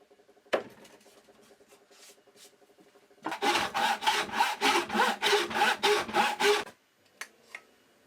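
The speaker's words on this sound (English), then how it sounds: "I score with a knife and then chisel a recess to help with sawing." Hand saw cutting a piece of wood in a woodworking shop, about a dozen rhythmic back-and-forth rasping strokes close to the microphone after a few lighter scrapes and taps, alone without talking.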